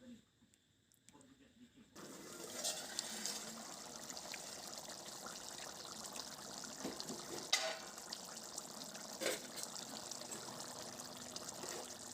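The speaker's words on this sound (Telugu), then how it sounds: "మనం కలుపుకున్న పిండి మిశ్రమాన్ని ఈ విధంగా ఇందులో పోసుకోవాలి" A thick flour mixture pours and trickles steadily into a pot of simmering chicken curry gravy, with faint clinks and bubbling throughout after a quiet start.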